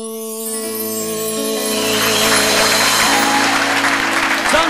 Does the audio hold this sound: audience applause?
yes